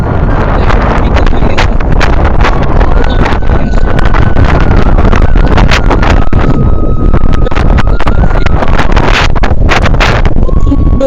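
Strong wind roars and buffets continuously across open water on a boat on the Hakaluki Haor wetland. It stays loud and unbroken throughout, with no one speaking.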